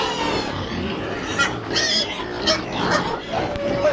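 Pigs on a farm with more than a hundred animals oink and grunt loudly and close by, with overlapping calls coming in irregular bursts.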